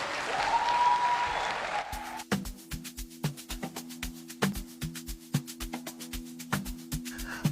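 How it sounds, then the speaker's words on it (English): Audience applause at a theatre festival in Kenya after a speech by a senior government official: a brief murmur gives way to sharp, rhythmic clapping that settles into a steady beat, with low background voices. "Another round of applause, please"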